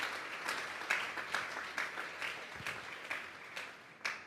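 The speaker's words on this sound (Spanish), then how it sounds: "Dele un fuerte aplauso pues al Señor esta tarde" Congregation applause during a Spanish-language Sunday church service, a fairly faint, distant roll of clapping with rhythmic pulses of hands striking together, heard alone without talk.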